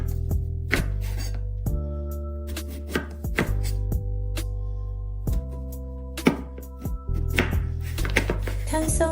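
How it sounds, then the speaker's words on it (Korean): A knife slicing sweet potatoes on a cutting board, a series of close, crisp chops and board thunks at an uneven pace over a steady low background hum, with no talk. "먼저 고구마 양쪽 끝을 잘라내고 사선으로 편 썰어 주세요"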